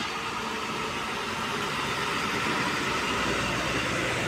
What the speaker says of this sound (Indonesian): bus Laksana Anda Patra Jatim Surabaya Malang via Tol Karanglo